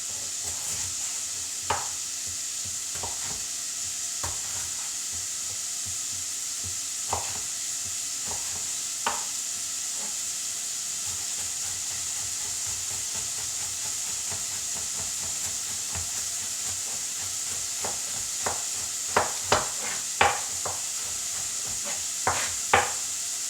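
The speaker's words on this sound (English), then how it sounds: "then I'm gonna add the mince and fry it." Minced meat and vegetables for spaghetti bolognese fry quietly in a pan under a soft constant hiss, punctuated by sharp spoon knocks and scrapes that cluster toward the end.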